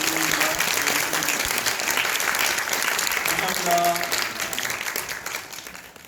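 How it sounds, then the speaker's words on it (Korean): Audience applause fills a concert hall during a live talk and photo session following a Rachmaninoff performance, dense and sustained clapping that stays loud before tapering off toward the end, with some voices mixed in. "저희 큰 박수 부탁드립니다."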